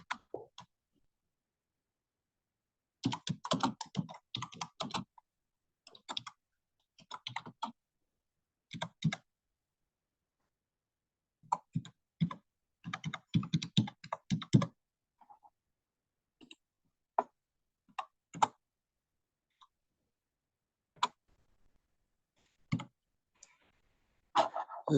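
Typing on a computer keyboard, with bursts of clicking keystrokes separated by pauses, fairly close and alone without talk.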